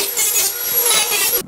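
A cutting tool grinding through the outer sheet-metal skin of an old rusty car door, a continuous bright scraping rasp held for over a second before stopping abruptly.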